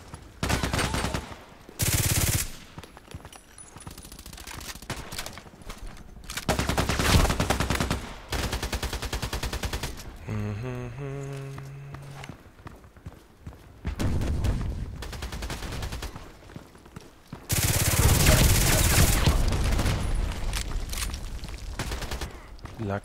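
Bursts of rapid gunfire from a sniper video game ring out loud and close, several volleys separated by brief gaps, with a game voice speaking between them.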